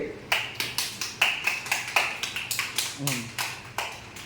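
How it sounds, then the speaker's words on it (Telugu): Two small children at home clap their hands in a quick, irregular run of sharp close claps, about fifteen across a few seconds, with a brief bit of talk in the middle. "క్లాప్స్ కొట్టు మరి"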